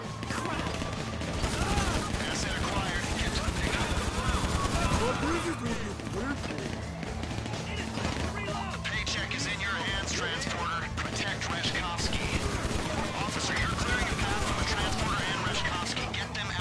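Rapid pistol gunfire in a GTA 5 Online heist shootout, dense repeated shots layered with other weapons in sustained bursts, with voices talking over the action.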